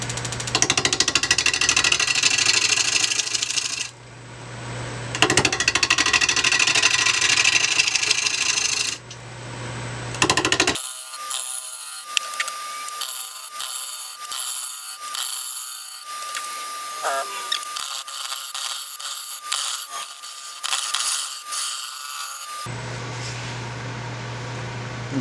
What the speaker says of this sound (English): I can start chiseling down the under the bottom of the bowl to get to the tenon.